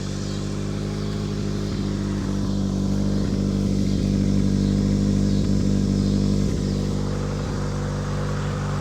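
A 1985 Honda Accord engine that had sat unused for years runs steadily at idle, a close, even, low rumble with a faint rhythmic clatter throughout.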